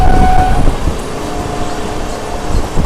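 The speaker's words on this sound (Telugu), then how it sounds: "మనకు వచ్చేసి ప్యాసింజర్ ట్రైన్ అయితే మన ట్రైన్ అయితే ఓవర్టేక్ అయితే చేస్తుంది" A train overtakes a slower passenger train on a long New Delhi to Chennai run, heard from inside a crowded general coach: a loud, continuous rumble with faint tonal whines and brief horn-like notes over the clatter.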